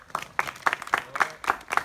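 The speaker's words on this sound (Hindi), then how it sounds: "जोरदार ताली बजा दी यशपाल जी के लिए" A village crowd at a natural farming awareness meeting in Azamgarh claps in a regular rhythmic beat, about four claps per second, moderately close and alone.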